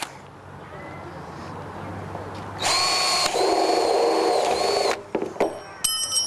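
A power drill spins up and bores a hole in a rain barrel loudly for about two seconds with a high whine, then stops, followed by a short rattle and whirr.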